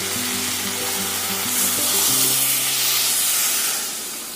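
Water poured into a cooking pot of vegetables, papaya and chicken for a stew, giving a steady hissing, bubbling wash of sound with faint background music and no talk.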